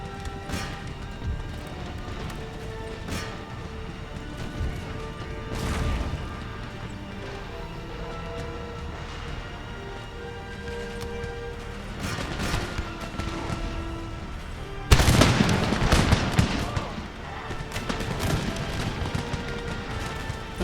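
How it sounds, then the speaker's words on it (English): Musket volleys and cannon fire in the Empire: Total War strategy game with canister shot, ragged bursts of gunfire and heavy booms scattered over a rumbling battlefield din, with a loud concentrated volley midway. "Everyone just fire as fast as you can. Switch to canister shot."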